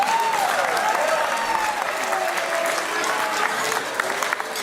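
A crowd applauding after a speech at a celebration, a dense, steady wash of clapping that carries loudly and evenly throughout, with no voices rising above it.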